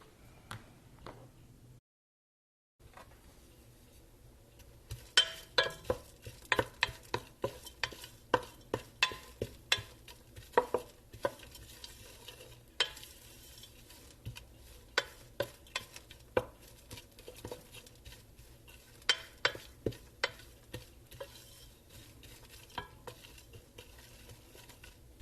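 Food crisping in a hot pan for macaroni and cheese, a steady low sizzle broken by many sharp clicks and scrapes of a utensil against the pan, close by with no voices.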